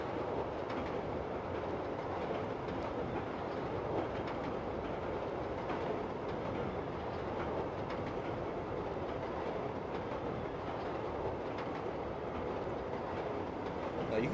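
Chicago Brown Line train in the Train Simulator video game rolls along steadily with a continuous rumble and faint rail clatter, an even, unbroken running noise with no talk.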